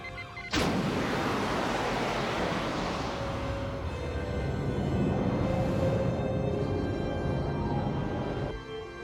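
A sudden sharp onset gives way to a loud, steady rushing hiss of venting air as a starship's main shuttle bay decompresses, holding for several seconds before cutting off.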